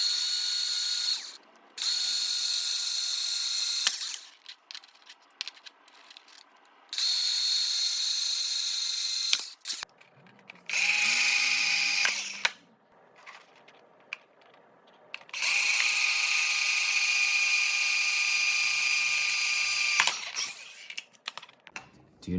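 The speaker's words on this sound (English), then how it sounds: "we're just going to drill out the holes" A power drill whirs in several separate bursts, each a few seconds long, with gritty crunching as the bit bores holes through a plastic mask, with brief pauses between.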